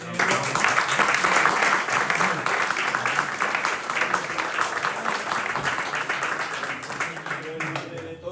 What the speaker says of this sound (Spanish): Pues le damos el aplauso final